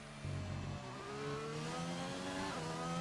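A race car engine in a sim racing video game holds a steady, loud, buzzing drone, its pitch climbing and dipping slightly as the car runs through corners on an onboard lap.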